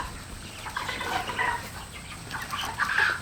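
Pasture-raised chickens cluck softly and intermittently close by in their shelter, a few scattered calls over a faint background hiss.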